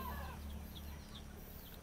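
Free-range Rhode Island Red chickens clucking, soft intermittent clucks heard faintly at a distance over a steady low hum of background noise.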